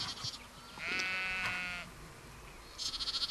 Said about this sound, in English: We've got 1, 2, 3, 4, 5, 6, 7 little lambs there, just off the edge on road before we start our walk.